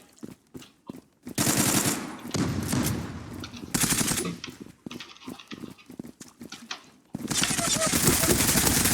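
Rapid automatic gunfire from the online shooter game Zula, sustained bursts of rattling shots broken by short pauses, with game sounds mixed in.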